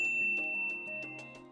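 A notification bell sound effect, a string of bright metallic dings and pings that ring out one after another, clear and close, with lingering tones.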